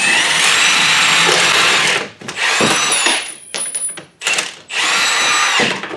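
A power tool with a 3/4 socket spins out the upper strut bolts on a 2007 Toyota Yaris, loud close bursts of whirring and rattling in three long runs separated by short pauses and clanks.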